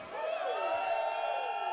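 A concert crowd cheering and whooping in a short loud burst of massed voices, steady throughout with a ringing musical tone underneath.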